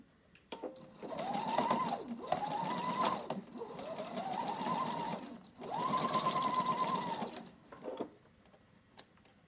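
A sewing machine stitches a zipper onto a simple piped pouch, running in several steady whirring bursts of a second or two each with brief pauses between, close and clear over a quiet room.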